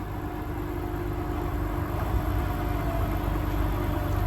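Engines on a 2001 Bayliner 4087 motoryacht run steadily with throttle slightly applied, a continuous low, droning rumble at even volume throughout with no talking.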